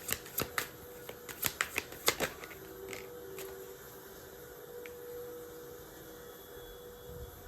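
Oracle cards are shuffled by hand in a quick run of crisp riffling bursts near the start, close and clear, then a quiet hum fills the remainder.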